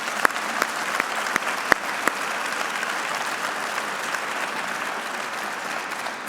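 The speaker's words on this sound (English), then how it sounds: "let's give both of them a round of applause" An audience at a historic preservation awards ceremony in Boston claps together in a steady, full round of applause. A few sharp, close claps stand out at the start before the sound settles into an even wash of hands, with no talking.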